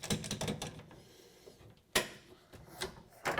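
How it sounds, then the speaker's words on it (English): A clamp is tightened on a countertop during a DIY kitchen makeover with shaker cabinets: a run of quick ratcheting clicks, a pause, then a few sharper knocks, fairly quiet and close. "now we're going to clamp it"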